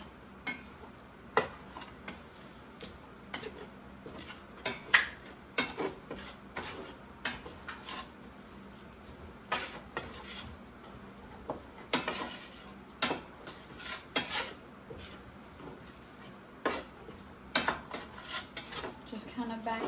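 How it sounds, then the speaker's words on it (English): A spoon or whisk scrapes and knocks around a pan as flour is stirred into melted butter and milk for sausage gravy, with irregular clinks and taps against the metal over a quiet background. "We just get this flour in here, and you're going to stir it around"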